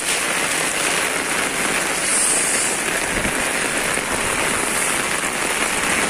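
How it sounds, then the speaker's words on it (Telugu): Heavy rain pours down in Hyderabad by an apartment, a loud, dense, unbroken roar of drops hitting surfaces with no voices. "భారీ వర్షం హైదరాబాద్లో."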